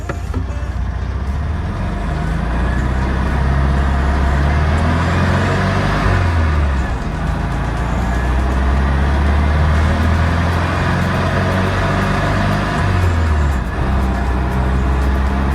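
An air-cooled VW Beetle engine drones loudly and steadily while driving, with its low rumble rising and falling through gear changes over road noise.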